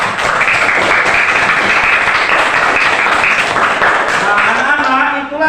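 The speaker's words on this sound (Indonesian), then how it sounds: "tepuk tangan untuk kelompok 1" A classroom group claps for a student team, a dense burst of applause from many hands that stays loud and close for several seconds before tapering off at the end.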